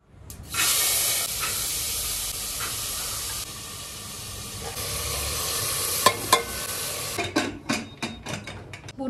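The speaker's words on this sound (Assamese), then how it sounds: "বুট ভাজিখিনি বহাই দিলোঁ মই ইফালে" Chickpeas hit hot oil in a pan with a loud burst of sizzling and hissing that stays steady for several seconds, then sharp clanks and scrapes of stirring break in toward the end.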